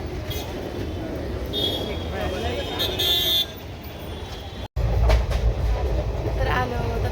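A train rumbles at Kacheguda railway station with a brief horn toot, heavy rolling noise filling the scene, and people talking nearby.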